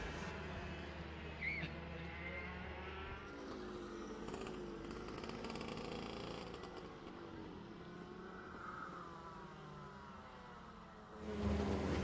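Go-kart engines race on a club kart track during a feature race, a continuous buzzing drone with shifting pitch as karts pass, holding fairly steady before swelling louder near the end.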